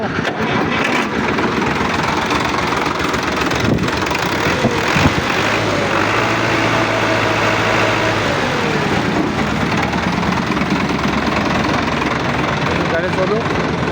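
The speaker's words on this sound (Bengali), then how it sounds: "দেখেন ইঞ্জিন তারপরে একটু স্টার্ট করি" A Sonalika RX 60 tractor's diesel engine cranks and starts, then settles into a steady, loud idle rumble that continues throughout, with a person speaking over it.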